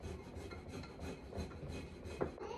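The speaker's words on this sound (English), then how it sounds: "when you put it through this microplane, it just mashes it really well so it dissolves in the food" Faint, steady rasping of garlic grated on a fine microplane grater in a home kitchen, continuous rubbing strokes close to the microphone with no talk.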